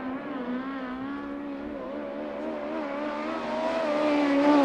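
A USAC midget race car laps Arizona Speedway, its high, buzzing engine drone holding steady then rising in pitch and loudness toward the end with no talk.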